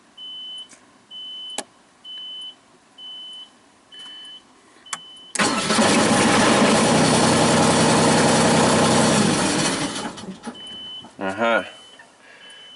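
Genie boom lift engine cranking to life then dying, preceded by a series of repeated electronic beeps; the engine roars steadily for about five seconds before winding down and stalling, with a voice speaking briefly at the end.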